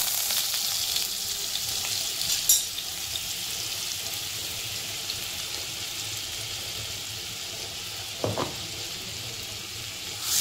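Butter melts in a little hot oil over low gas in a pan for matar paneer masala, giving a soft, steady sizzle throughout with a couple of brief clinks or scrapes and no voices.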